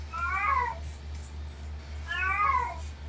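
A cat meows twice, each call a drawn-out, wavering cry about two seconds apart, close and clear above a steady low hum.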